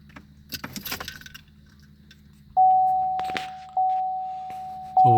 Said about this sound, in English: Now we're going to turn the ignition to on position.